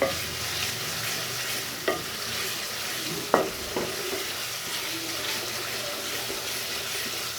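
Chana masala fries in oil in a pan and is stirred throughout, giving a steady close sizzle with occasional scraping and knocking of the spoon.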